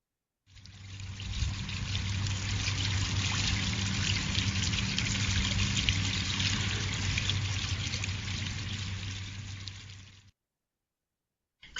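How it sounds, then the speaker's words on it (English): Water from a garden fountain splashes and trickles in a steady, continuous rush that starts abruptly and cuts off after about ten seconds. "I've heard the sound of the water bounce it"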